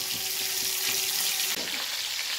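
Bangda mackerel fish frying on a tava gives a steady, close, fairly loud hiss and sizzle that holds throughout. A brief clatter near the middle sounds like the pan or fish being handled.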